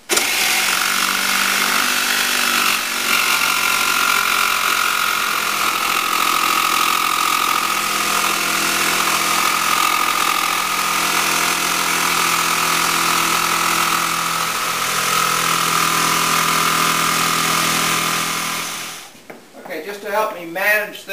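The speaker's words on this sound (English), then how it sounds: "I've got my saber saw with a medium tooth blade." Saber saw with a medium tooth blade making a rough cut through a veneered desk top substrate, a loud steady buzzing drone for nearly twenty seconds that winds down, followed by a person talking.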